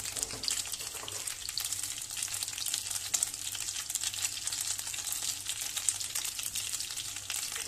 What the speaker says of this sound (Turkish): Karnabahar kızartması yaparken böyle yağ çok sıçrıyor.